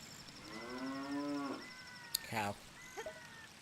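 A giant cow in The Legend of Zelda: Ocarina of Time gives a long, low, drawn-out moo, followed by a couple of short game sound effects, clear and close.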